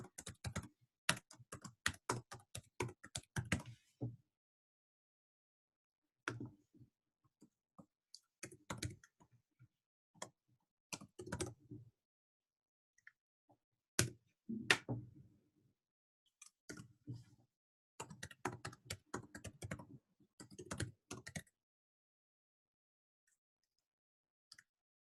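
Password being typed on a computer keyboard: bursts of quick, close key clicks separated by pauses, some isolated single taps, quiet and dry with no talking.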